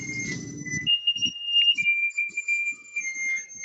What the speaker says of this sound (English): It's the oven. Telling me the preheat is ready.